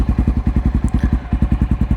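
A Honda XR650L fitted with an FMF Powercore 4 exhaust idles close by, thumping out a steady, loping beat of about seven deep pulses per second with a slight hitch near the middle.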